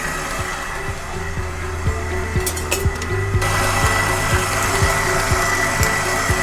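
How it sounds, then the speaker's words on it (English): A mixer whips hot Italian meringue for buttercream, giving a steady, loud motor whine with a rapid, regular ticking of the whisk throughout. No one talks. "we're going to keep whipping because it's still hot"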